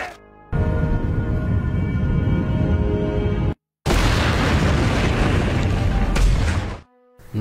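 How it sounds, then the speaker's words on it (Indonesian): A helicopter explodes in an action film with a loud, dense roaring blast that fills the scene, breaks off briefly, then surges again before cutting out. "Akhirnya Dragovic tewas dan meledak bersama helikopter di tempat itu."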